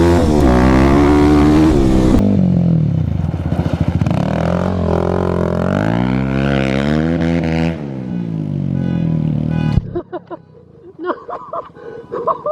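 A 2021 Kawasaki KLX300 dirt bike fitted with a Barker exhaust revs loudly and close up, its engine note climbing and falling through several throttle blips before cutting out into sharp crackles and pops.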